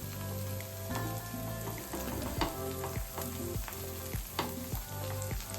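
Paneer tikka fries in plenty of oil on a new tava, giving a steady close sizzle and crackle broken by regular soft clinks, with no voices.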